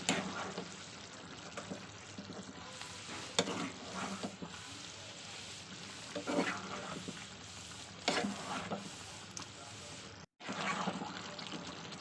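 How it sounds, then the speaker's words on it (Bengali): Meat and turmeric frying in a pan, a steady soft sizzle broken by scraping stirring strokes at intervals, close and moderately quiet, with a brief drop to silence near the end. "মাংসের সঙ্গে হলুদ পুরোটাই ভালোভাবে কষাবো"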